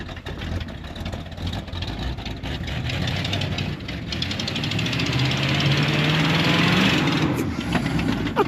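A 454 Chevy 4x4 van engine revs hard in four-wheel drive, a loud steady roar that builds and rises in pitch toward the end, with tire and drivetrain noise outdoors.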